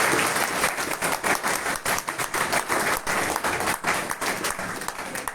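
A congregation at a church New Year gathering claps in a brisk, uneven burst of applause that keeps going the whole time, close and fairly loud.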